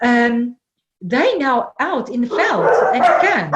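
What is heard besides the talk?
dogs barking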